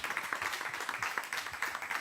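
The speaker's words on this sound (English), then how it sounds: "A big round of applause for the panel," Audience clapping for a panel at a refugee coexistence event, a dense patter of many hands that is moderately loud and steady across the whole stretch, with no talk over it.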